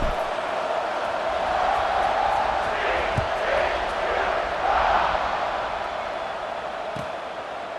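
A stadium crowd in the video game College Football 26, at a TCU vs Texas Tech game, roars in a steady, dense wash of cheering that swells slightly midway and holds throughout.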